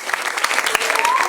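Applause from an audience at a community event celebrating a young girls' vocal group, steady dense clapping throughout the short moment, fairly loud and close, with a faint voice or tone rising near the end.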